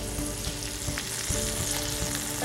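Sausage frying on very low heat in a cast iron skillet, a steady close sizzle with soft crackles and pops running throughout, no voices.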